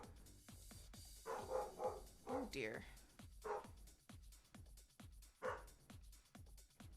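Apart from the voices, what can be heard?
dog barking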